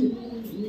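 Racer and Pakistani pigeons coo softly in a short, steady low murmur close by, with a faint chirp above and no talking.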